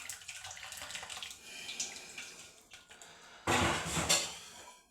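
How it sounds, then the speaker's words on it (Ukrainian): Boiling water is poured from a saucepan onto dry sausage skin: a soft trickle and splash, then a louder gushing pour near the end, close by. "беремо кастрюльку виливаємо кипіточок на цю шкурочку"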